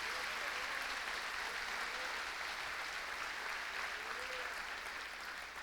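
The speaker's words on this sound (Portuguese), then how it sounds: "Seu aplauso está muito fraco" A church congregation applauds during a sermon, a steady, even wash of clapping heard faintly and at a distance.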